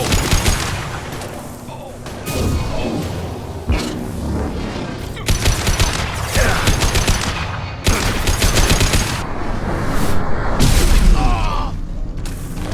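Combat in Mass Effect 2 on PC: loud sustained gunfire and booming blasts, including a grenade explosion, with rapid bursts and heavy impacts layered continuously and close.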